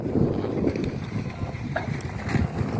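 Steady wind gusts buffet the microphone outdoors while a kite is flown high on a long line, a continuous low rushing roar with slight swells and no talk.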